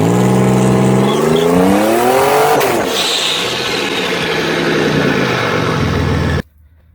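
Turbocharged Pontiac Trans Sport V6 minivan doing a burnout: a loud, close engine revs up in a rising sweep, then roars steadily with tire noise for about six seconds before cutting off abruptly.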